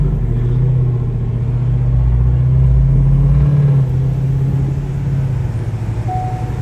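A car, driven by its owner after selling a Mustang, rumbles along with a low steady engine drone that swells around the middle of the stretch, nearby and continuous, with no talking.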